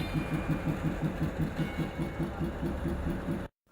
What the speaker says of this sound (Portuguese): uma locomotiva a diesel é acoplada e leva a máquina número 3 por 10 km até o destino final